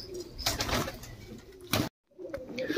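Lucknow Kalsire pigeons, a paired couple sitting in a nest box, coo in low, soft, repeated calls, close by, with a brief silent gap near the end.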